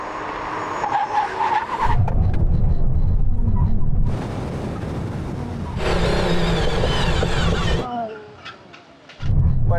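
Aston Martin Valkyrie, Vanquish and V12 Vantage in a braking test on a drag strip, loud engine roar building and fading, with bursts of tyre noise and a brief lull near the end; voices are briefly heard.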